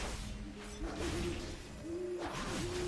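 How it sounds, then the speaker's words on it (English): Hooting of an owl within the game World of Warcraft: Battle for Azeroth, two low, gliding hoots a second apart over a busy wash of ambient game sound, moderately faint. "That was an owl. There's an owl nearby."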